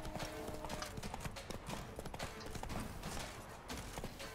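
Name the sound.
horse Roach galloping in the video game The Witcher 3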